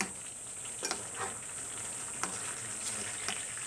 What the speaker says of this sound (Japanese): 最後に強火にしてひと煮立ちさせて、しっかり混ぜながらお肉にソースを絡ませていきます